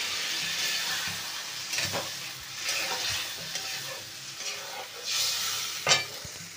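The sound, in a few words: duck eggs with pointed gourd stir-frying in a pan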